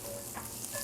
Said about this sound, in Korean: 중간불 정도 이하로 이렇게 파기름을 내면은 요